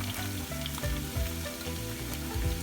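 Lentils sizzle and fry steadily in hot oil with browned onion and garlic, a close, continuous crackle with faint stirring, and no voices.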